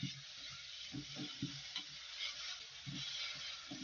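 Grated bottle gourd roasts in a pan with a soft, steady sizzle, broken by rhythmic scraping strokes of a spoon about twice a second, close and fairly quiet.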